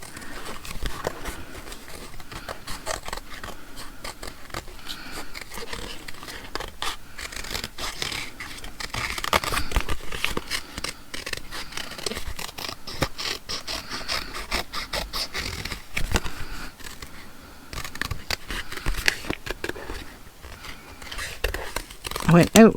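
Scissors cut paper for a junk journal with a long run of close, crisp snips and rustling paper, while a person talks throughout.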